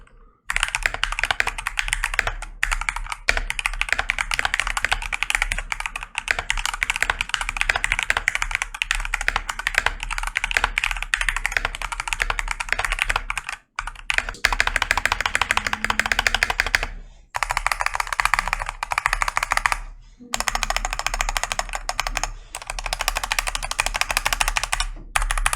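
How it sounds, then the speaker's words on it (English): Typing on a DrunkDeer G60 rapid trigger keyboard, loud, continuous and close, a dense rapid clatter of keystrokes with a few brief pauses. "I'm guessing y'all want to see how the keyboard sounds."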